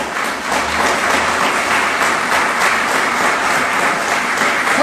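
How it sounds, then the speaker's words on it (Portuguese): A church congregation breaks into loud, sustained applause that stays dense and even from start to finish, with no voice heard over it. "aplauda bem forte aquele que vive"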